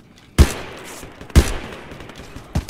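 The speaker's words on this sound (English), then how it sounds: "I dumped 3 rounds in the dude's chest, though" Three loud, close gunshots from a squad-versus-squad video game shooter, about a second apart, each a sharp crack with a short reverberant tail fading into quiet background.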